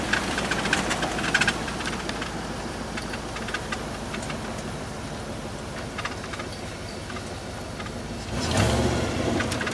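Ford Explorer engine running steadily after a downshift, a continuous low rumble with faint knocking texture, then a brief louder surge near the end.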